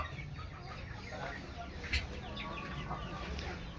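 A turkey at a poultry and egg seller's farm clucks and gobbles in short bursts, with one sharper call in the middle. Other birds and faint voices murmur in the background.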